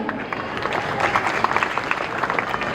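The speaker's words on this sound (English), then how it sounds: "Let us appreciate him with a huge round of applause once again." A school audience at a science exhibition event claps together in a close, busy patter, with individual hand claps standing out, lasting a few seconds.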